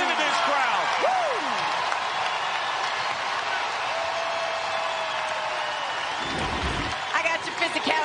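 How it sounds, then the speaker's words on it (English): Loud crowd noise fills a basketball arena during the Ole Miss vs Stanford second-round women's game, a steady roar of cheering with whistles and squeaks, a sharp thud near the end. "Listen to this crowd."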